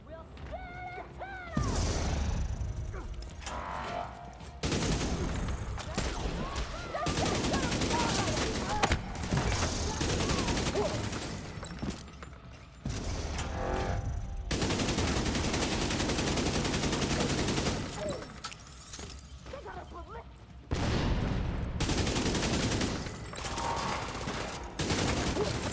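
Rapid bursts of video game gunfire aimed at an enemy, loud and close, come in long dense volleys separated by short gaps across the whole stretch.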